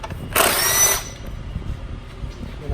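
A power tool zips out 10mm bolts from a cover on a 2007-2012 Nissan Sentra, one loud burst of about half a second up close, then quiet shop background.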